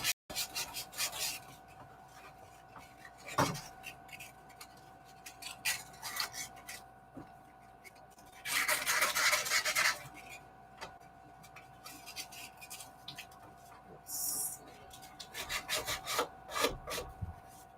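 Sandpaper rubbing along the side of a wooden journal cover in steady back-and-forth strokes, close and fairly quiet, with one longer, louder scraping pass in the middle and a few light knocks.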